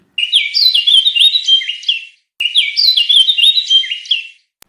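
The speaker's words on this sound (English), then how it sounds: "Birds chirp. Birds chirp. Birds twitter. Birds sing." Birds chirping in two identical bright, rapid twittering phrases, each about two seconds long with a short gap between, close and clear against silence.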